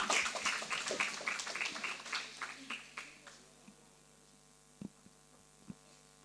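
A classroom claps for a student named Fernanda, a burst of scattered hand claps that thins out into a few isolated claps over a steady electrical hum.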